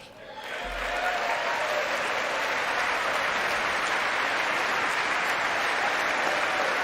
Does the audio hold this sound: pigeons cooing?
no